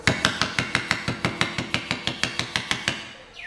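A hammer taps repeatedly on an eyelet setting tool, fixing eyelets in place. About fifteen light, bright, evenly spaced metallic knocks sound close by, and the clip ends in a short pause.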